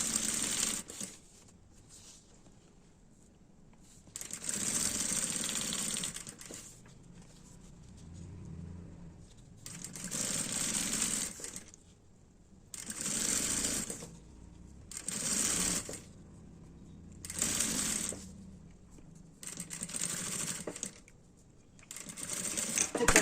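A sewing machine stitches a zipper seam on a multipurpose travel case, running in repeated bursts of a few seconds each with short quiet pauses between them.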